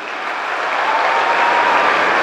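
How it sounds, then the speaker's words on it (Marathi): A large audience at a comedy speech claps loudly and steadily, a dense roar of applause that holds throughout without any voices. "एकदा जोरदार टाळ्या होत्या तुमच्यासाठी."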